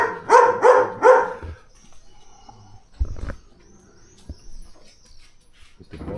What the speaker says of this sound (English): Barking up on the roof.